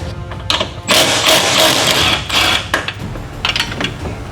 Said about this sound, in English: I already started with an angle grinder, so it shouldn't be too bad.